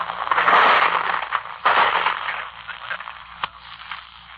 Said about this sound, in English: Those, my friends, are bullets.